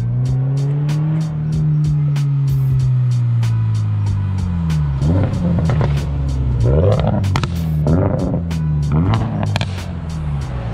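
A loud modified Toyota GR86 roars past up close, pitch sweeping as it revs, with popping and crackling exhaust bursts as it goes by.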